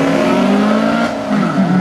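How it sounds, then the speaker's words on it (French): A junior dragster accelerates hard at a drag race in Satigny, 2010: a loud, close, buzzing engine whine with steady harmonics that dips briefly, then climbs in pitch as the revs rise again. "Des juniors dragsters qui commencent avec des gamins qui ont à partir de 7 ans d'accélération."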